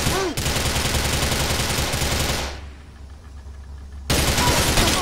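Rapid bursts of automatic gunfire in GTA 4 The Ballad of Gay Tony, loud and continuous for several seconds, dropping to a brief lull before another sharp volley erupts at the end.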